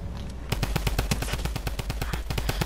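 Rapid automatic fire from a drum gun in Fortnite, loud close bursts of evenly spaced shots that run almost continuously after a brief quiet start.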